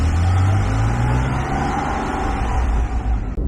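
A Porsche 911 on a short test drive after a brake fluid change, its engine droning steadily at close range with low rumbling road noise throughout and no talk.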